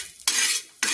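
Grated coconut is stirred while it roasts in a pan, two short bursts of scraping and rustling with a quiet gap between them.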